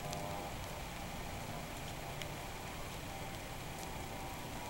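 Raindrops hiss and sizzle on a burning water-resistant torch, a steady, faint crackling wash of rain and fire noise with scattered sharper drop pops, with no talking.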